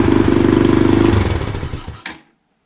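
A Boom Vader Grom clone motorcycle engine idling high with a close, rapid pulsing putter that falters and winds down to a stop, followed by a brief clunk and then silence.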